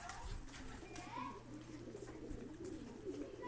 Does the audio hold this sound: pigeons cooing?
yes